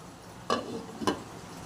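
A ladle stirs pulao in a pot after water has been added, with two short scraping, sizzling strokes against a steady low hiss of cooking.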